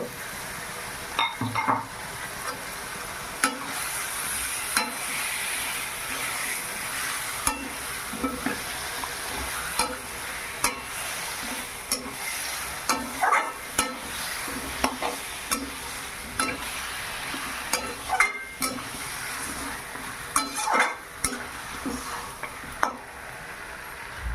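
Duck meat frying in a pan while being stirred, a steady sizzle with repeated scraping and clinking of the spatula against the pan throughout, close and continuous.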